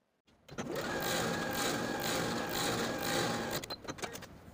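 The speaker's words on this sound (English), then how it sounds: "Then I'll top stitch this folded edge with a 3/8 inch seam allowance." A sewing machine top stitches a folded fabric edge, whirring close up in one steady run for about three seconds before slowing and stopping in a few uneven bursts.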